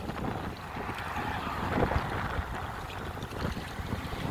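Gusty wind buffets the microphone outdoors near open water, a continuous rough rumble with no voices.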